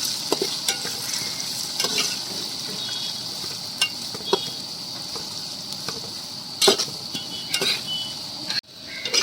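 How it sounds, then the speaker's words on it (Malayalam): Sliced onions sauté in a pan for fish head curry with a steady close sizzle, broken by scraping stirs and light clinks of a utensil against the pan. "നമുക്കിനി അടുത്ത ഉടനെ സവാള ഇട്ട് കൊടുക്കുക."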